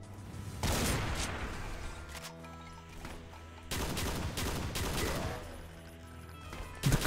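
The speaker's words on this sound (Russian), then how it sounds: "Кто, мать твою, стреляет там, сука?" Rapid gunfire from the shooter Doom: Project Brutality erupts in loud sustained bursts, falls away briefly, then returns in a second heavy volley, ending with a sharp close blast.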